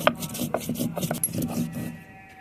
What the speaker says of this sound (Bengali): এখানে আমি ডালচিনি, এলাচ, লবঙ্গ, গোলমরিচ সবকিছু বেটে নেব